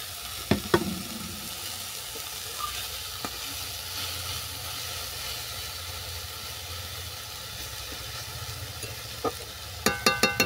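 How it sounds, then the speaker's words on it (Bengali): Apples for chutney being stirred and sautéed in a pan, a steady sizzle and hiss with occasional scraping clinks of a spatula, clearer knocks near the start and a flurry of taps at the end, no talk. "কিছুক্ষণ নাড়াচাড়া করার পর আমি দিয়ে দিচ্ছি পরিমাণ মতো চিনি"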